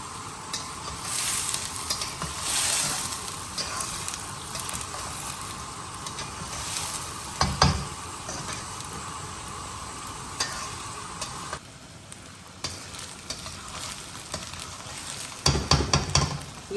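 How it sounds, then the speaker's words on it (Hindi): Onions and chicken with bitter gourd fry and sizzle over high heat in a pan, a continuous close crackling hiss broken by occasional spoon scrapes and knocks against the metal. "आग को तेज कर लें और उसके बाद ये जो पानी निकला इसे कुक कर लें और साथ साथ ये भुनाई होती रहेगी"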